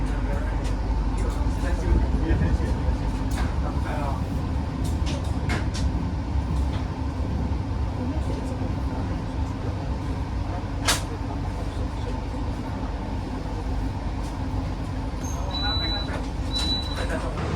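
KA Jayabaya economy train pulling into Lawang station on the Malang–Surabaya line, heard from inside the carriage as a steady low rumble with brief brake hiss and a short squeal near the end, under continuous talk.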